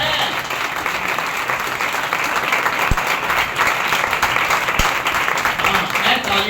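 A congregation at a Sunday church service breaks into sustained applause, a thick, steady roar of clapping hands with voices mixed in throughout.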